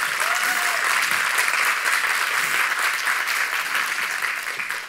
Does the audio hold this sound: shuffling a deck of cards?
no